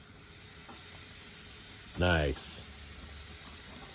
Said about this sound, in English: Nice sizzle. Look at that.